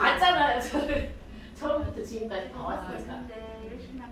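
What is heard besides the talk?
No everyday noise stands out behind the speech.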